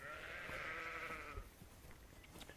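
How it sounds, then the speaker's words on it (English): Sheep on a farm let out a sustained, wavering bleat for over a second, fairly close, followed by quieter rustling and faint background noises. "Bloody sheep. I hate sheep."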